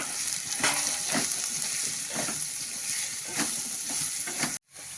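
Chopped bottle gourd with turmeric frying in a hot pan, a steady loud sizzle broken by repeated scraping strokes of a spoon stirring, with a brief cut to silence near the end.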